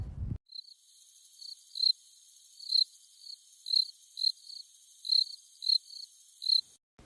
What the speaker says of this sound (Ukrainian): Коник.